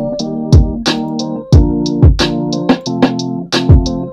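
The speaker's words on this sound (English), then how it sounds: "So if you come into the kick drum, it sounds like this." Kick drum pattern played back in a music production program, a steady loop of punchy low thumps about every half second with bright tonal layers, loud and clean with no talking.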